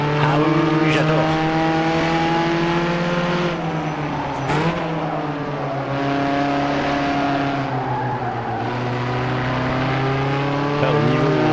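A 1967 Renault 8 Gordini 1300 racing in the rFactor 2 sim, its engine droning steadily with pitch rising and falling through gear changes, loud and continuous, with occasional tire squeal.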